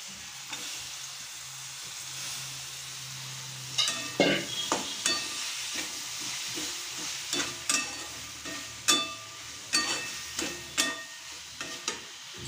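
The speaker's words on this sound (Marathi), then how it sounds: "आता त्याच्यामध्ये मी सोयाबीनची वडी टाकून घेत आहे" Small soya chunks sizzle and fry in a pan with sauces for Hakka noodles, steady hissing underneath as a spoon stirs in repeated scraping strokes through the second half, close and unaccompanied by talk.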